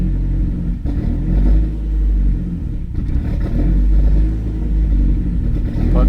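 Big turbo Audi A4 B7 engine with newly fitted drive-by-wire throttle, a deep close rumble that swells with throttle blips and falls back, heard alone.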